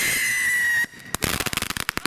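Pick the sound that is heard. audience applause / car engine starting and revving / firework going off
firework going off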